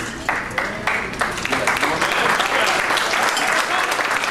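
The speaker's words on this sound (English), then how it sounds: "You might want to save your applause." An event audience applauds corporate sponsors, starting with a few separate claps that quickly swell into thick, sustained applause from many people.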